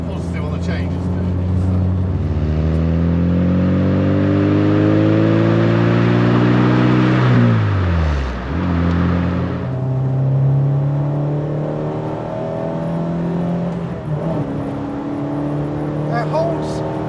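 A Rover Metro engine revs hard through gear changes, its pitch climbing, dipping briefly at each shift and rising again, loud and close from inside the car.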